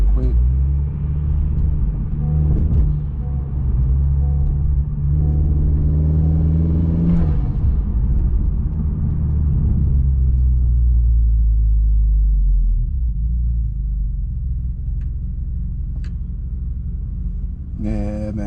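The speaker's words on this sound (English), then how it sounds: "just gonna let you enjoy and let you hear the sound and everything from the exhaust" Honda Accord 2020 Sport with a PRL street downpipe idling in sport mode, a steady deep exhaust rumble with a brief rise near the middle, close and loud throughout.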